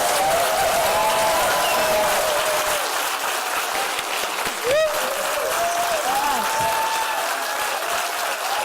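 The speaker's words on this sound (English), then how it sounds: "Please let's give them a round of applause." A conference audience applauds a panel at the close of a session, sustained dense clapping throughout with a short whistle-like tone cutting through near the middle.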